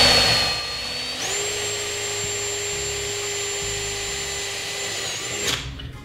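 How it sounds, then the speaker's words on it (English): A drill whines steadily at close range while boring mounting holes for a motor mount in a homemade tumbler turner, spinning up sharply, holding an even pitch for about four seconds, then winding down. "We're gonna drill our holes for where our motor mount is."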